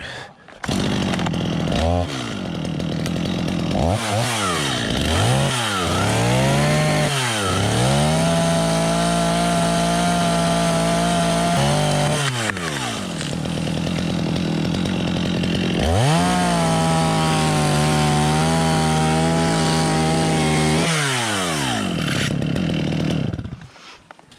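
A chainsaw revs up and down several times, then holds a loud, steady whine as it cuts through a mango tree branch, with engine bursts between cuts.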